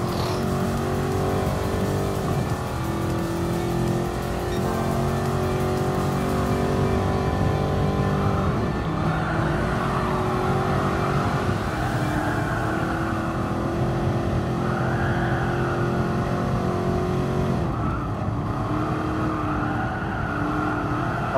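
A De Tomaso Pantera classic Italian sports car races at Willow Springs in Gran Turismo Sport, its engine droning loudly and continuously as it revs up and down through gear changes, with no talk over it.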